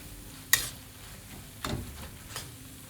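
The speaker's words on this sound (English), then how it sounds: "And give it a stir." Aubergine mash for baingan bharta is stirred in a pan: three distinct scraping strokes, the first sharpest, over a soft background sizzle, with no talking.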